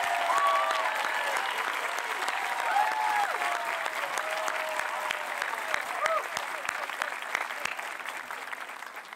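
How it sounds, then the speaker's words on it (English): A large audience applauds steadily at a high school graduation ceremony, a dense wash of clapping from many hands lasting throughout and slowly thinning toward the end. "Please, a round of applause for our entire administrative assistants."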